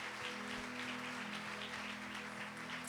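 Church congregation applauding during a worship service, a steady wash of clapping that fills the whole moment, with a low sustained hum from the sound system underneath.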